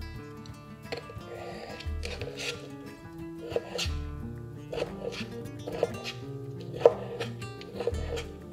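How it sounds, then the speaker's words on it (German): A knife chopping pickled gherkins lengthwise on a cutting board, a string of distinct close knocks at irregular spacing, with faint background noise and no speech. "Bei dem Gürkchenschneiden mache ich es ähnlich wie bei den Karotten."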